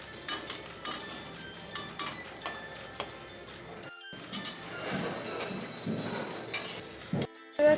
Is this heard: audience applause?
no